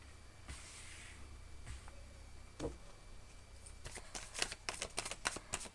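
Tarot cards shuffle and draw quietly in a hushed room, with a few soft isolated flicks early on and then a quick burst of rapid riffling clicks toward the end.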